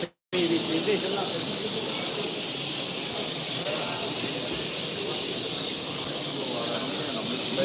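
A flock of Australian budgerigars chatters and chirps continuously in a dense, unbroken wash of small calls, with a brief silent gap at the very start.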